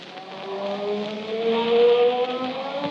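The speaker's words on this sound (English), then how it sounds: "That was the sound of the Blue Beetle's magic ray." Magic ray from the Blue Beetle radio drama, a steady loud electric humming drone with layered tones that swell slightly and hold throughout.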